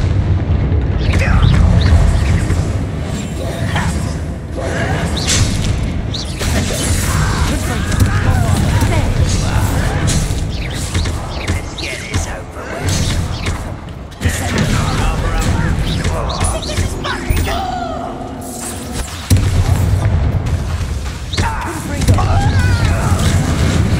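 Explosive Bombarda spell blasts in Hogwarts Legacy, heavy booming bursts repeating through a dense, continuous game soundscape, loud and close throughout.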